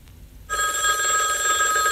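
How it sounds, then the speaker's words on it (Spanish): A telephone ringing at home, an electronic ring tone starting abruptly after a short quiet moment and sounding steadily and fairly loud, alone with no talk. "suena el teléfono"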